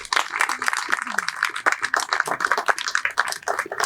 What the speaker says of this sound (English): give yourselves a round of applause for getting us to this point